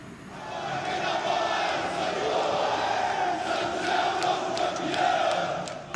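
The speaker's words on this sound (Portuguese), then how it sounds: "A torcida jovem do Santos cantou e agitou bandeiras em agradecimento pela herança de uma camisa" Santos supporters chanting together as a large crowd during the vigil and funeral procession for Pelé in Santos, a steady, dense mass of singing voices with cheering that holds loud throughout.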